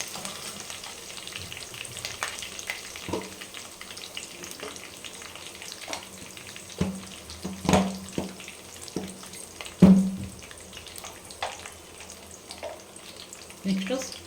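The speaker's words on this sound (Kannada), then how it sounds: "ನೆಕ್ಸ್ಟು ಒಣಗಿದ ಮೆಣಸಿನ್ಕಾಯಿ ಚೆನ್ನಾಗಿ ಫ್ರೈ ಆಗಲಿ." Dried red chillies fry in hot oil in a pan for homemade puliyogare gojju. A steady soft sizzle runs throughout, broken by occasional sharper clinks and scrapes of stirring, with no voices.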